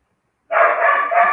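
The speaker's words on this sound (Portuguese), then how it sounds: "vou esperar as cachorras acalmarem um pouquinho" Dogs bark in a sudden loud, continuous burst that starts abruptly and carries on close to the microphone, with no talk over it.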